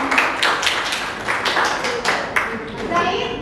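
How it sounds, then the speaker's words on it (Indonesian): A small audience claps for a student group after its presentation in a class, giving a loose run of sharp, uneven claps that stay close and fairly loud, with some voices underneath. "Tepuk tangan untuk si kelompoknya Naila"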